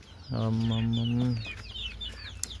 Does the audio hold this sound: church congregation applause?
no